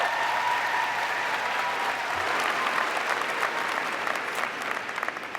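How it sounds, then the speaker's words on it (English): A graduation ceremony crowd applauds steadily in a large hall, a dense, even wash of many hands clapping that holds for several seconds with no voices over it. "Let's give them a round of applause."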